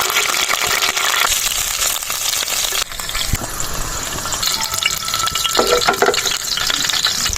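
Green chilies and garlic frying in hot oil, a steady loud sizzle with stirring scrapes throughout, no talking.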